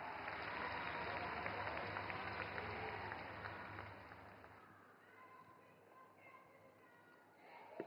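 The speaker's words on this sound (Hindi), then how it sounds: "जोरदार तालियों से स्वागत करें माननीय मुख्यमंत्री जी का।" An audience at a government event applauds to welcome the chief minister, a dense burst of clapping that swells and then thins out into scattered claps and crowd murmur.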